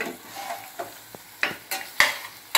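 Gongura leaves cooking in oil in a pan, with a spoon stirring through them in repeated scraping strokes over a soft, steady sizzle.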